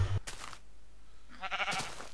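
Sheep in the Minecraft video game bleating, one quavering bleat trailing off near the start and a second wavering bleat after a pause, clear and close with no talk.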